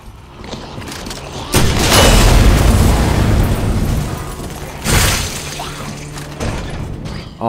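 Gas tank exploding in Resident Evil 2: a heavy booming blast with rumbling, clattering debris, followed a few seconds later by a second loud burst, with no talking.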